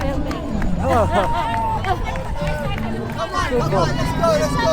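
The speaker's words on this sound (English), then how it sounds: "An awesome crowd." A roadside crowd cheers and shouts encouragement to runners at 31 km of the Comrades Marathon, a busy, continuous babble of many voices with loud calls rising over it, close by.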